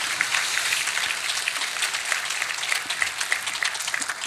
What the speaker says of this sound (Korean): 우리 성가대에서 격려의 박수 한번 하겠습니다